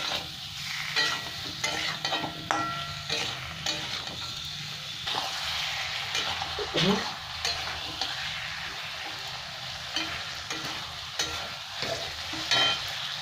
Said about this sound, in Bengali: এবার খুব ভালো করে একটু কষিয়ে নেব মশলাটা দিয়ে সবজির সাথে